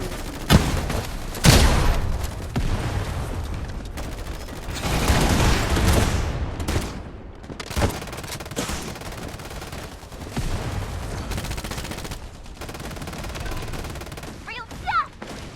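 A video game battle with a hard-hitting shotgun, loud bursts of gunfire and rapid automatic fire arriving in heavy clusters, mixed with game effects and brief voice lines.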